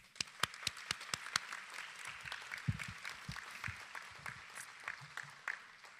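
Applause for school board candidates at a candidate forum, beginning with a few sharp individual claps and filling into a soft, scattered round from a modest audience.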